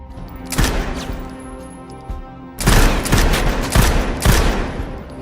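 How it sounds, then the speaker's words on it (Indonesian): Bursts of rapid gunfire at shooting practice in a movie scene: a short volley early on, then sustained, louder automatic fire in repeated bursts through the second half. "mendatangi latihan tembak agar dirinya bisa menembak dengan cara yang benar"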